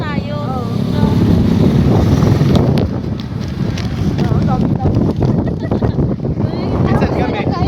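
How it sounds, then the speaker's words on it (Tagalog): Strong wind rushing over the microphone while riding a motorcycle, a steady loud buffeting roar with engine rumble underneath and occasional voices in the background. "Sarap ng hangin."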